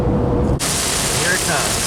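Thunderstorm in the Florida woods at a campsite, a loud sustained wash of rain and rumbling thunder filling the whole moment after a brief muffled start, with no voices.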